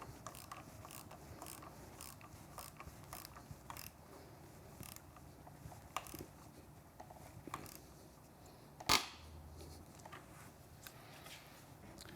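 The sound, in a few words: 17mm socket ratchet tightening motorcycle bar clamp bolts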